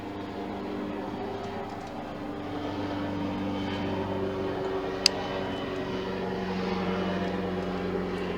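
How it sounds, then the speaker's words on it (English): A helicopter flies over at a distance, a steady low droning hum that carries on without a break. "Helicopters flying over."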